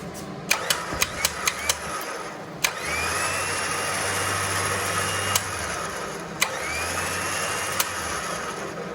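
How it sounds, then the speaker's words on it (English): A Badlands winch hums steadily as it spools rope onto its drum, the motor drone running through most of the stretch, broken by a run of sharp clicks and taps early on and a few later knocks. "So what we're doing right now is essentially putting the first spool onto the drum itself."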